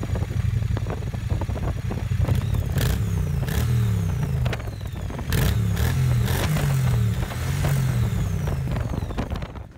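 A Triumph Street Cup motorcycle runs through its stock exhaust pipes, its engine loud and close with repeated revs rising and falling over a steady rumble.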